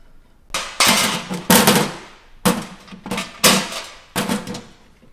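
Sharp, loud metal blows ring out as a hammer drives a Toyota Tacoma wheel hub free from its steering knuckle during a coilover install. About eight strikes land in uneven pairs and clusters, each one clanging with a brief ringing decay.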